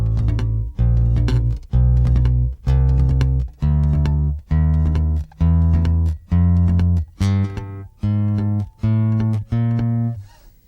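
Muted guitar strings are strummed in a steady series of about twelve short, choked strokes, each moving up to the next string, close and fairly loud with no voices.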